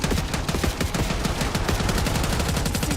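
Video-game street shootout with dense, rapid gunfire, shots crackling in quick overlapping bursts throughout the whole stretch, loud and continuous, with no voices.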